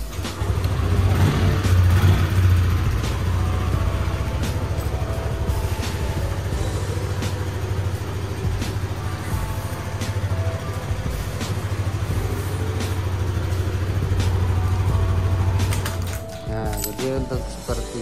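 A Yamaha NMAX scooter engine starts, then hums steadily at idle with some revving, running continuously and loud for most of the stretch before easing down near the end.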